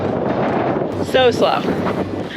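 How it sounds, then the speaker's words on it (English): Strong wind gusting across an open Highland road in Scotland, buffeting the microphone with a steady roar while cycling against a headwind; a voice briefly speaks over the rumble. "The wind is so strong that we have to pedal going downhill."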